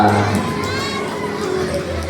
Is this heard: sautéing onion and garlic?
no